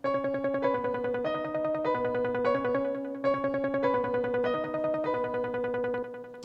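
A synth arpeggiator cycles through a fast repeating pattern of notes while piano chords sit on top, steady and clear with no voices.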